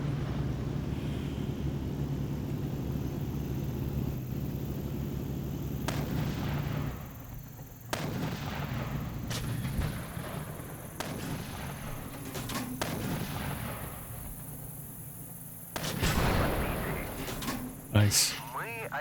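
Video game tank battle with sharp, booming gunshots scattered over a steady engine rumble, roughly half a dozen distinct reports in an irregular rhythm, some nearer and louder than others, while a player talks over it.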